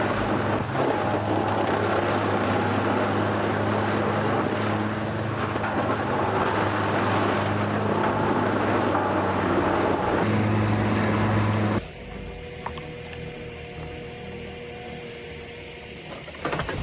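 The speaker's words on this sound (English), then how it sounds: "The Comtech wood shredder delivers 610 horsepower and twin shaft power, pushing 160 cubic meters per hour." A Komptech twin-shaft wood shredder rated at 610 horsepower grinds forest residue into biomass fuel, a loud sustained mechanical roar with a steady low hum that cuts off abruptly to a quieter background.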